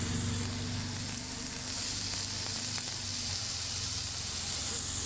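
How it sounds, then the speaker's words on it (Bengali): Eggplant tipped into a pan of small chuno fish chachchari sizzles steadily, a dense continuous frying hiss with faint stirring scrapes, no voices. "বন্ধুরা বেগুনটা ঢেলে দিচ্ছি।"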